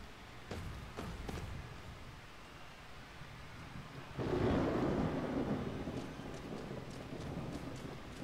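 A deep rumble of thunder rolls in midway through steady rain on the pitch of the Blood Bowl 2 video game, with soft wind and patter continuing around it.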